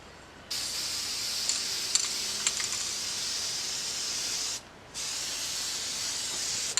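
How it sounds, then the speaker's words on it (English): A spray can hisses steadily as it applies smooth coats to a handmade sword in a workshop, two long close bursts split by a brief pause, with faint clicks under the first burst. "spray it down upside down, clear the nozzle, and then apply it in very smooth coats, like so"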